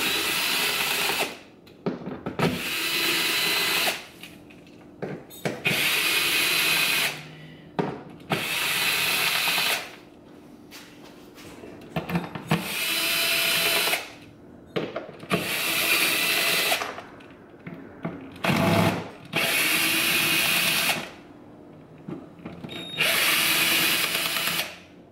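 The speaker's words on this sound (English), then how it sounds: "you're going to take these screws out. There's four of them on each one." A power driver spins out T15 screws from trim panels in a C8 Corvette trunk, running in repeated bursts of whirring a second or two long, separated by short quiet gaps, close and fairly loud.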